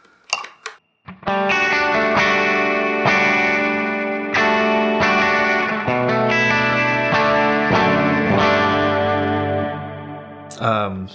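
Distorted electric guitar through a Quad Cortex preset with chorus and echo, EQ off, plays a sustained chord-driven passage, loud and full, with a brief pause near the start and a cutoff at the end.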